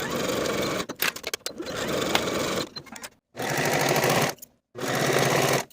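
A sewing machine stitches a hem in several bursts of fast, steady whirring and clattering, stopping briefly between runs, close by and fairly loud.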